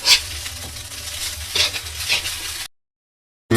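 Leftover fried rice with hilsa fish reheating in a pan, a close sizzling hiss with spatula stirring scrapes in bursts, then a sudden cut to silence before the sizzle briefly returns.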